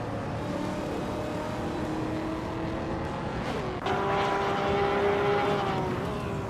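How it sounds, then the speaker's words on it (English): Racing video game engine sound of a 2016 Maserati Gran Turismo MC, a steady sustained engine drone with a shift in pitch and louder note partway through as the car accelerates, no talk. "Rosa Golgamin is driving a 2016 Maserati Gran Turismo MC"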